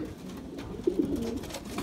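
Racing pigeon cooing beside its nest mate in a loft, a few soft low coos rising briefly midway over a steady background rumble.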